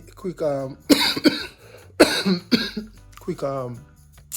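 Someone coughs a couple of times amid ongoing talk, the coughs sharp and close between spoken phrases.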